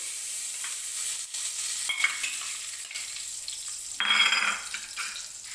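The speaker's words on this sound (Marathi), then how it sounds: "आता मी तूप टाकून घेते अगोदर याच्यामध्ये." Ghee sizzles and fries in a heated pot for a wheat kheer, a steady hissing crackle that swells louder near the end, with no talk over it.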